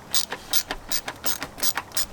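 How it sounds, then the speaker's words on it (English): A T25 Torx driver ratchets against BMW V-bar bolts as they are backed out, making close, crisp clicking bursts that repeat in a steady rhythm, with no voices. "So I'm using a T25 to remove these bolts."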